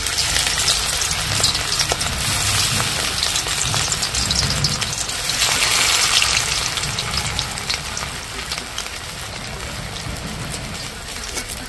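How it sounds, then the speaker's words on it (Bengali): Pumpkin leaf fritters frying in hot white oil in a wok, a loud, steady, dense crackling sizzle that holds throughout and eases slightly toward the end, with no talking. "এবার বড়াগুলো দিয়ে দিচ্ছি।"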